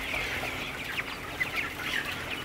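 A shed of 22-day-old broiler chickens, heated by a hot water system, fills the air with a dense, continuous chorus of high cheeping and clucking, with no talk.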